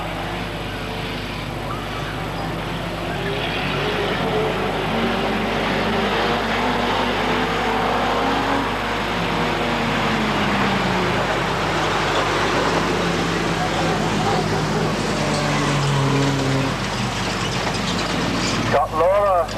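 Street stock cars racing at a 1994 title meeting at Gunnedah speedway produce a steady, loud engine roar across the whole stretch, with a commentator talking over it.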